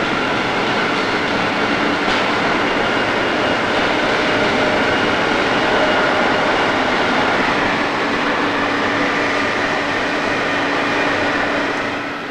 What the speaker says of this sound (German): Alle 2 Jahre wird die S-Bahn überprüft, damit Sven und Thomas